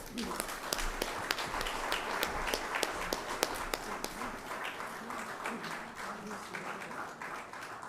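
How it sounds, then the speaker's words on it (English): Audience clapping fills the room at an assembly opening ceremony, a dense patter of many hands with sharper individual claps, gradually thinning as voices murmur underneath. "A round of applause."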